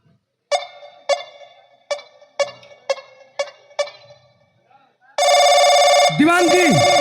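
A telephone bell rings in six evenly spaced, bright, close bursts, then gives way to a loud sustained electronic tone with warbling, sweeping pitches.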